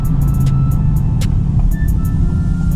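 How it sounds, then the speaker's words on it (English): A Dodge Challenger R/T engine idling with a deep, throaty exhaust rumble, loud and close, steady throughout with a few faint high clicks. "Just wanting to hear that exhaust sound."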